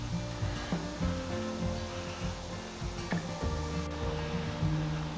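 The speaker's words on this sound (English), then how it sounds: "I can hear the water off in the distance coming down" Distant water rushing down at Cummins Falls State Park, a steady broadband roar like a far-off waterfall or rapids, continuous and fairly soft, with footsteps and a few brief knocks over it on a rocky trail.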